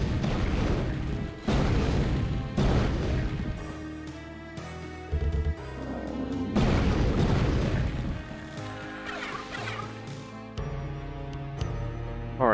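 Firestorm spell blasts from the Cleric in the Hexen: Beyond Heretic game, heard as repeated loud booming bursts at irregular intervals over steady, tonal game music.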